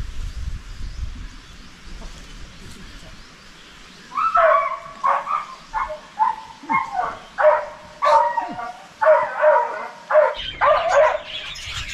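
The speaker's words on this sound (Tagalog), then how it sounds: "Yung aso natin galit ka kasi nakita niya yung mga kasama natin na nagkatay ng pato ba." A farm dog barks angrily at people who have been slaughtering a duck, a rapid series of loud close barks after a quieter stretch of ambient outdoor noise.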